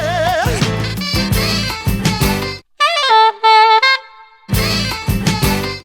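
A saxophone plays a quick, bending melodic lick from the bridge of a song, with short phrases and brief pauses, clear and upfront.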